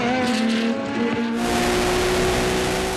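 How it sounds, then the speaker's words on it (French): Touring cars racing in the British Touring Car series, with a Peugeot number 6 among the leaders: a loud, steady roar of engines at high revs, droning continuously and up close as the cars pass. "Nigel Grinsall sur la Peugeot numéro 6 vient rapidement se mêler aux avant-postes."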